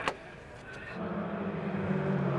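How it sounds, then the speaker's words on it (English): A Formula 3 racing car accelerates at Rockingham during the 2012 British Formula 3 championship. Its engine note climbs and grows louder as it pulls away out of the corners. "Jack Harvey, the race leader, accelerates away now as he picks up the pace coming out of the Brook sequence of corners through turn 4"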